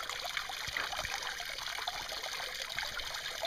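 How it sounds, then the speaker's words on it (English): Water from a filter and an overflowing pool spills over the two small waterfalls of a goldfish pond outdoors, making a steady, moderately close trickling and splashing with no talk. "It's got the one from the filter and the one pool flowing over to the other one."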